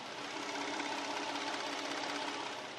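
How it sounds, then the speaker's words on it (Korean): A steady, smooth idle of a Hyundai Aslan's 3.3 GDI engine recorded up close with the hood open, an even mechanical hum with a light rapid ticking running through it, no voices. "바로 가까이서 엔진 사운드 담아드리도록 하겠습니다."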